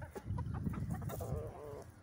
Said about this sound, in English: You good chickens.